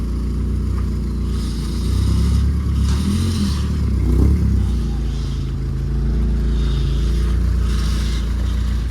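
A car engine idles steadily after an engine refresh, a low constant rumble up close, with brief revving and some clatter near the middle and faint background noise.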